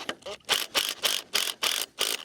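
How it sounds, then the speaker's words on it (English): Close, crisp ratcheting of a 13mm ratchet socket tightening bolts while fitting automatic roll-up sides on a high tunnel greenhouse: six or seven evenly spaced clicking strokes in a steady rhythm, with no speech. "I'm using a 13mm socket"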